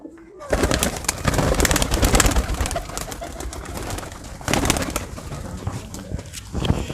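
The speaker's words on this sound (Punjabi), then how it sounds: "ਇੱਕ ਕਬੂਤਰ ਫੜਿਓ ਇੱਥੋਂ।" Racing pigeons on a Punjabi pigeon farm coo softly, close by, under busy clattering and rustling as one bird is caught by hand.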